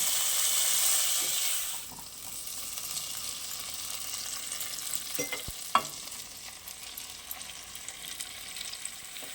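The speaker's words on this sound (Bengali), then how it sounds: "এগুলো কিছুক্ষণ মশলার সাথে কষিয়ে নেব।" Fried vegetables and ground spices, coriander powder among them, are stirred in a pan, a loud sizzle at first that settles into a quieter fry with a few scattered scrapes and knocks of the spoon.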